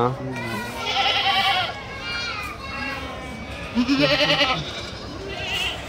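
Goats bleat in short wavering calls at a weekly goat market in Kadiri, several overlapping, mixed with children's chatter and voices nearby.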